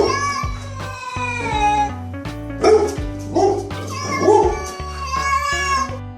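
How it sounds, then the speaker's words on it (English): A dog and a cat bark in loud, repeated bursts at something on a roof, overlapping in a rough, uneven rhythm close by. "There's something or someone on the roof and the dog barks to scare it off."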